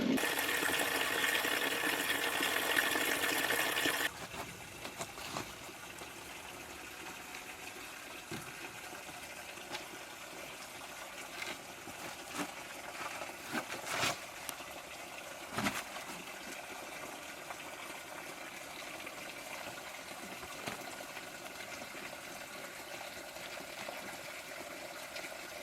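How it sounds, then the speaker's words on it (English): Clean spring water flowing at its source, a steady soft trickling wash that runs alone throughout, louder in the first few seconds and then quieter and even. "down here is our source of the spring, lovely clean drinking spring water."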